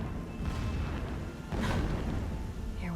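Explosive blasting in the video game Horizon Zero Dawn sounds as distant, muffled booms over a constant rumbling din, with one heavier swell midway and a whooshing sweep near the end.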